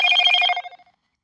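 A phone notification rings on its own, a single bright electronic tone lasting about half a second, then fading quickly into silence.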